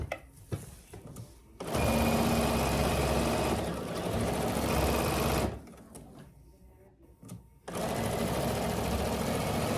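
A sewing machine runs in long continuous bursts while quilting an oven mitt, loud and close, with two steady stitching runs separated by a short pause and brief quiet gaps at the start and end.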